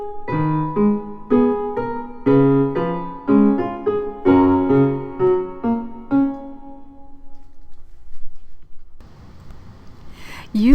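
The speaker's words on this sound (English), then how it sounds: "Now try playing both the right hand and the left hand together." A piano is played with both hands together, steady melody notes over lower chord tones in an even rhythm, ringing out to a gentle fade before faint rustling noise at the end.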